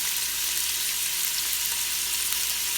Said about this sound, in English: that smell of this smoked sausage frying is like, it smells so good